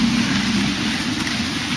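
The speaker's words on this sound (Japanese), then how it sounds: "あー、雨降ってきた。" Rain begins falling outdoors on the way to a river, a steady broadband hiss that holds evenly for the whole stretch with no voices.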